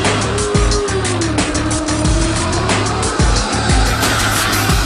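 A Dodge Challenger drift car howls at high revs on a Red Bull drift course, loud and close, its engine note rising and falling with gear changes while the tires squeal steadily through the slides.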